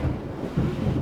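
Thunderstorm rumble used as a sound effect, a low, dense rolling roar with a swell partway through, steady and fairly loud with no voices.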